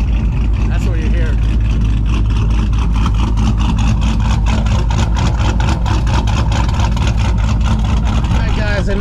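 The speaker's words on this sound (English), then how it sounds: "Listen to Vanessa's car. That's what you hear." A car's engine rumbles steadily at a car meet outside Camelback Brewing Company in Sanford, North Carolina, a loud, continuous low drone close by with rapid pulsing exhaust texture and no break throughout.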